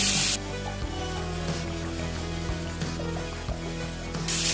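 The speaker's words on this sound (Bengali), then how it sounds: "বড় চিংড়িটা কড়াই দিয়ে দিচ্ছি।" Large prawns frying in hot mustard oil with five-spice seeds in a wok, a steady loud sizzle and hiss running throughout with a few soft knocks, no voices.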